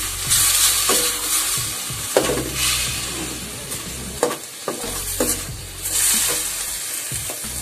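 Chicken for tinola, a Filipino chicken soup, sizzles in a pot while it is stirred in its own juices, with steady frying hiss and a few scraping clinks of a utensil against the pot.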